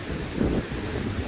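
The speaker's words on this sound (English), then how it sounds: "too windy now, and lots of breeze." Breeze buffets a microphone outdoors in old Jaffa, Tel Aviv, giving a brief, low, rumbling wind noise with no voices.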